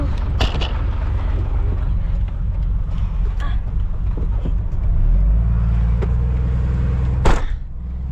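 A hitchhiked car ride at night near Livingstone, Zambia: a steady low engine and road rumble from inside the vehicle, with occasional knocks and a sharp bump near the end.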